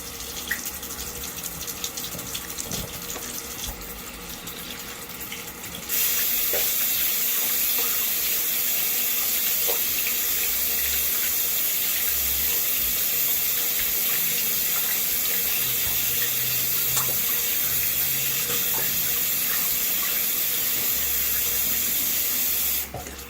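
Tap water runs steadily into a bathroom sink as hands are washed, starting quieter and then gushing louder and fuller for most of the stretch before cutting off near the end, with no talking.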